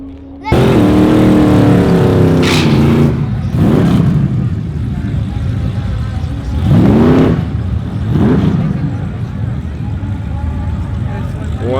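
A Dodge Durango Hellcat and a Jeep Trackhawk race, their engines roaring loud and close with several rising rev sweeps and shifts, surging and easing over about ten seconds.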